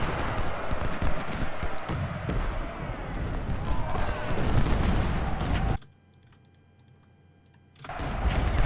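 Musket volleys from Civil War infantry lines in the strategy game Ultimate General: Civil War, a dense crackle of overlapping shots with clicks, dropping to near silence for about two seconds before resuming.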